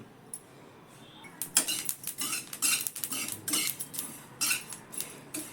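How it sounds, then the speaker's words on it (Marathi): Sesame seeds are dry-roasted in a pan, with a spatula scraping and rattling them in quick irregular bursts after a quiet first second, close and clear with no voices. "तीळ आता थोडी भाजावी लागेल. तीळ भाजून घेते."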